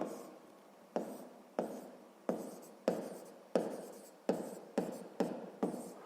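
A pen or pencil scratches across paper while a math problem is jotted down, a series of short, quick strokes in an uneven rhythm, close and fairly quiet with no talking.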